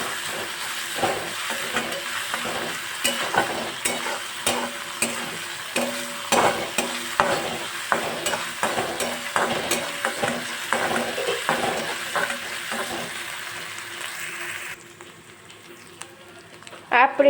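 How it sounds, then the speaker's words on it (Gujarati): Chopped onion frying in a pan toward golden brown, a steady close sizzle broken by repeated scraping and stirring strokes, which fades to a quieter hiss near the end. "ડુંગળીને આપણે ગોલ્ડન બ્રાઉન સુધી હું કૂક કરી લઈશ।"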